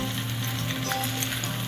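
Rice with thick fresh tomato paste and scrambled eggs sizzles steadily in a hot pan as it is stir-fried, a close, continuous fry with soft scraping, no voices.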